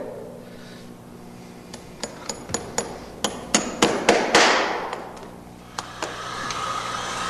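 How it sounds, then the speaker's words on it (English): A hammer drives nails into an aluminum horseshoe in a quick run of about a dozen sharp metallic taps that build in loudness, then a few more isolated strikes after a pause, close up. "so I can go ahead and nail"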